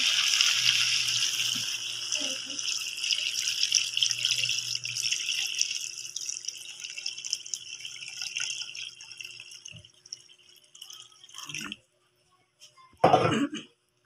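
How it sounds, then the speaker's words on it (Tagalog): Rice washing water pours steadily into a cooking pot for sinigang with tilapia, a continuous hiss and trickle that thins and breaks into drips, followed by a few sharp clatters near the end. "Ibubuhos ko na yung aking humugas na bigas."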